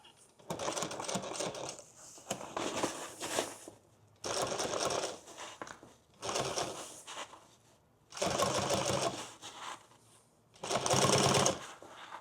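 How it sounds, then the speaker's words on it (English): Sewing machine stitching a ballistic-fabric duffle bag close to the seam edge, running in five loud bursts of rapid mechanical whirring separated by short pauses. "gonna sew this a little closer to the edge, and then we'll come through and put another line further inside"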